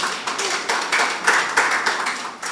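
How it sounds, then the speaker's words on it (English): An audience at a stock exchange listing ceremony claps briefly, a scattered patter of hands with uneven bursts, fairly close and without talk over it. "I think they deserve another applause."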